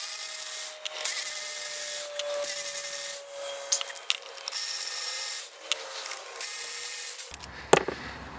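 A power tool, likely an impact gun, zips bolts out of a wheel hub on a London black cab with about 212k on the clock, outdoors on grass; short repeated whirring bursts, near and fairly loud, with clatter at the end.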